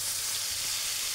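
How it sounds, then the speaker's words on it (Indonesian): Ground spice paste sizzles in three tablespoons of hot oil, giving a steady, bright frying hiss that runs without break at close range. "Saya akan pakai minyak 3 sendok makan untuk menumis bumbu yang dihaluskan tadi."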